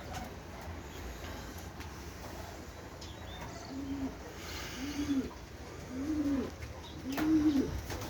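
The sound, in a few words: pet pigeons cooing on a balcony in the evening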